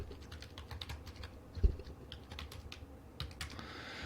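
Someone types on a computer keyboard, producing soft, close, irregular key clicks with a brief louder tap partway through, over a quiet room background.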